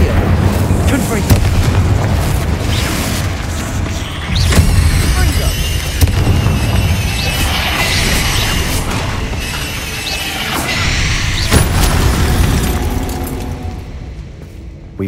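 Confringo explosive spell cast in Hogwarts Legacy, a dense, continuous game soundscape of booms and bursts with repeated sharp impacts around combat effects, loud throughout with a voice speaking over it.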